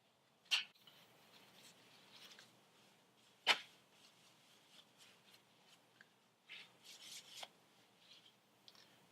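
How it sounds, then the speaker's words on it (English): A cloth with rubbing alcohol wiped over the crankcase of a 2018 Kawasaki Ninja 1000 / Z1000SX, making quiet, sporadic rubbing strokes and soft scuffs close by, with no speech. "we're just going to wipe this down with some rubbing alcohol"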